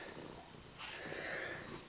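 A 15-year-old cat gives a brief, quiet, raspy purr up close, lasting under two seconds.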